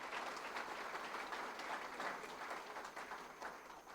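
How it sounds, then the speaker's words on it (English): Applause from the audience at a young farmer of the year awards evening, a continuous, fairly faint wash of clapping heard from a distance without any talk. "Round of applause for all 7 of our contestants."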